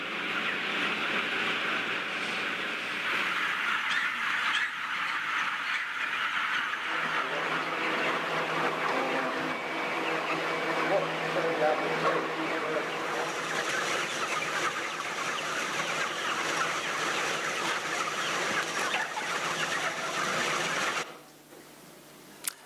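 A large flock of broiler chickens reared for meat makes a dense, steady din of clucking and chatter that stays loud throughout, then cuts off abruptly near the end.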